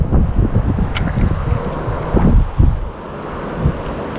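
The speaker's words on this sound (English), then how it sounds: "I am sorry for the audio on this video because it is windy." Gusty wind at the Yakima River delta in Richland, Washington buffets the microphone with low, rumbling bursts, loud and uneven throughout.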